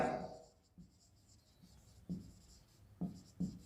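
Chalk or marker taps and strokes on a classroom board come in a few short, separate, fairly quiet hits against a faint background hum.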